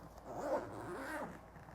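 A quiet zipper on a cooler lid pulled along in one smooth, steady run, close by with no talking.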